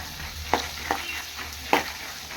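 Crushed garlic frying in oil in a pan for a spicy Uttar Karnataka churumuri snack, with a steady low sizzle broken by three sharp stirring clacks, close by and fairly quiet, no voices.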